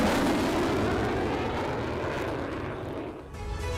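A Sukhoi Su-34 fighter jet roars in flight, a loud, broad, sustained engine rush that eases slightly toward the end, with no voices.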